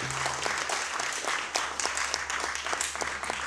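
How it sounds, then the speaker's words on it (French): Conference audience applauding steadily for the full stretch, a dense wash of claps at moderate loudness with a low steady hum beneath, no one speaking over it. "On peut peut-être les applaudir si vous êtes d'accord."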